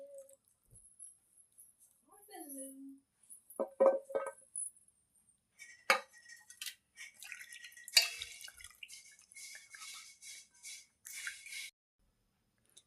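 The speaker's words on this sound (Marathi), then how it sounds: "ही एक ते दोन दोन वेळा स्वच्छ पाण्याने धुवून घेणार आहे" Okra rinsed in clean water in a home kitchen: close, intermittent splashes and drips come in short bursts separated by quiet pauses.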